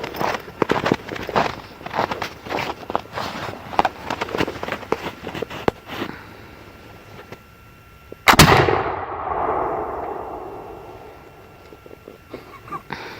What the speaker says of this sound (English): a military load with 100 plus grains has a good amount of flash and a good amount of kick